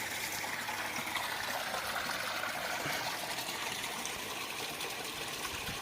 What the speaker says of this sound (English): So I am now closing down this pond, and it is draining.